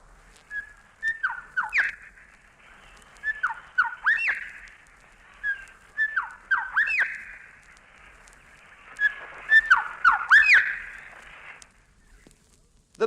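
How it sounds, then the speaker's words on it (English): A grey thrush sings in Australian bush, phrases of clear rising and falling whistled notes repeating in several bursts about every two seconds, moderately close and alone with no voices. "the grey thrush has a fine melodious voice which rings through the trees in the spring"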